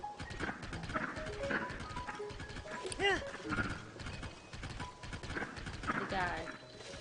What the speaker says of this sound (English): This horse makes weird noise.